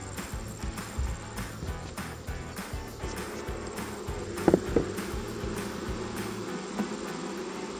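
Apis mellifera honey bees buzzing around an opened hive of frames, a steady, fairly soft drone with individual bees flying close past now and then, no talking.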